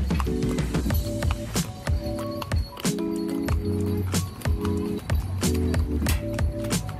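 A horse ride at Giant Bintaro gives a steady, rhythmic clip-clop of hooves, mixed with repeating tonal, music-like notes and light background noise throughout.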